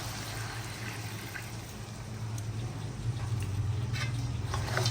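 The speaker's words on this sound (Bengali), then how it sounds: "এখানে আমি হালকা গরম পানি অ্যাড করলাম।" Warm water pours into a pot of beef in a steady, close, splashing stream that grows slightly fuller over five seconds, over a low hum.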